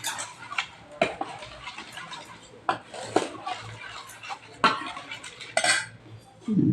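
A spoon scraping and clinking against a bowl while breaking up lumps in curd, with irregular close metallic taps and stirring strokes, and a voice talking at times.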